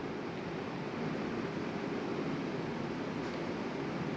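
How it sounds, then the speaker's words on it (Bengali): Fried potatoes and peas are stirred into a spice masala for ghugni, giving a steady, even sizzle and hiss that runs continuously at moderate level without talk. "দিয়ে আবারও ভালো করে নাড়িয়ে চাড়িয়ে নেব, যাতে আলু আর মটর মশলার সাথে একইভাবে কষে যায়।"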